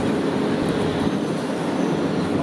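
A Sydney metro train pulls away from a station as a steady, loud rumble and rushing noise, heard from inside the carriage.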